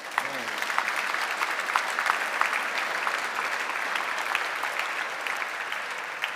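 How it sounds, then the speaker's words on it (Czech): Steady, full applause from a large audience at an architecture awards ceremony, continuous clapping filling the room throughout with no breaks. "ještě předtím si vychutnejte potlesk"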